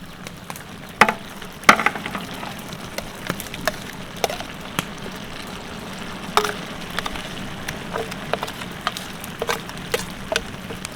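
Vegetables fry steadily in a pan as ginger paste and cumin paste go in, a soft continuous sizzle broken by occasional sharp clinks of a spoon against the pan, with no talking.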